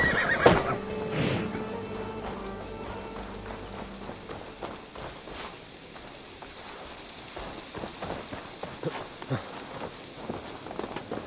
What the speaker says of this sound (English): I mean, I get the 8-legged horse.